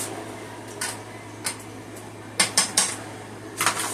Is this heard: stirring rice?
yes